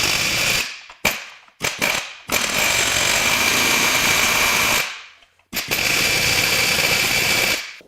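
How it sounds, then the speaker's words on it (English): A loud pneumatic air hammer peening a bolt during a Subaru EZ30R 3.0 H6 engine teardown rattles in long continuous bursts, with a couple of short stuttering taps and brief pauses between runs. "I'm going to use my air hammer to kind of peen the inside of it"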